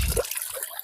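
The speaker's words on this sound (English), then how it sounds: "you pretty much want to shake your pan, leaving it fairly flat at this stage in the water to take the weight out of it" Gold pan held fairly flat and shaken in water, washing screened ground, with a short burst of watery sloshing and splashing, close and fairly loud, alone.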